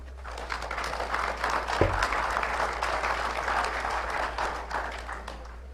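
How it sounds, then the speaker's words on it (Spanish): An audience at a panel on adult education applauds a speaker, sustained mid-level clapping with a low constant hum underneath and one brief thump partway through. "Recibamos con fuertes aplausos a Rosy"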